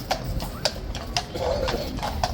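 Horse hooves clip-clop at a street scene, sharp evenly spaced clacks on hard ground over crowd murmur and background noise.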